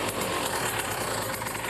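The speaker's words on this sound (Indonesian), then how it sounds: "Oke, sekarang saya nyalain motornya." A Kawasaki Ninja RR two-stroke motorcycle with an open air filter and a WRS racing exhaust idles steadily close by. Its low, even engine rumble runs throughout, with no voices.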